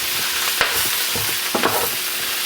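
Prunes stirred into a sizzling pan with Brussels sprouts, a soft steady frying hiss broken by a few sharp scraping stirs of the spoon, with no talking.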